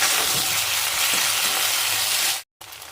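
Ginger garlic paste frying with onions in a pan for fish curry, a loud, dense, continuous sizzle with faint stirring, cut by a brief silence near the end before the sizzle resumes.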